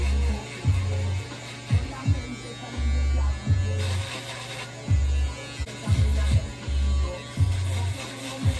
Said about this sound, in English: Now I'm going to grab my Andes shaver to take all the excess hair off and make it completely bald.